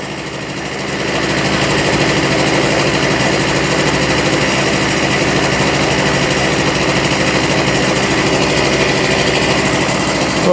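A 1988 Honda Vision Met-in 50cc scooter idles high, its small engine giving a steady, buzzing rattle that rises in the first second and then holds loud and even throughout, with no voices.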